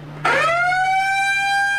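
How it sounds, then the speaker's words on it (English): An early morning household alarm sounds loudly and steadily, a single sustained electronic wail that begins abruptly and holds its tone without pause. "Their day kicks off with an early morning alarm"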